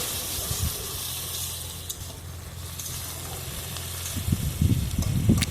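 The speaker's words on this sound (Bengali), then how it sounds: "এবার এখানে আমি একটু জল দিলাম জল দিয়ে এটাকে একটু ঢেকে রাখবো" Rohu fish curry with jackfruit seeds and ridge gourd sizzling in a covered pan after a little water is added, a steady soft hiss with louder bubbling bursts near the end.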